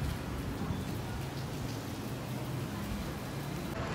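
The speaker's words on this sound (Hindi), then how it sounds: "बारिश स्टार्ट हो गई है।" Steady rain falling during a monsoon-style downpour, a soft continuous hiss of drops with a low rumbling undertone, fairly faint and even throughout with no voices.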